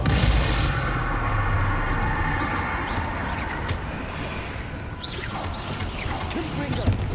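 Blasting Confringo and Bombarda curses from a video game erupt as dense, rumbling explosions layered over a constant roar, with crashing bursts and sweeping swells throughout.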